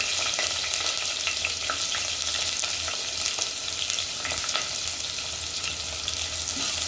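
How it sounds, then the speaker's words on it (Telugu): Onions and green chillies fry in oil with a steady, close sizzle, while scattered ticks and scrapes of stirring run through it without pause. "ఉల్లిపాయ పచ్చిమిరపాయలు వేసేద్దాం"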